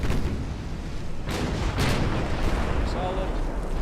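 Naval gunfire and a torpedo launch in the warship game Ultimate Admiral, booming low rumbles with a couple of sharp blasts over a dense, loud battle din, while a voice talks over it.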